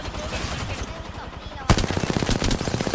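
Gunfire in a shooter video game comes fast and loud in dense automatic bursts, and the volume jumps sharply partway through as the player is chased and shot at.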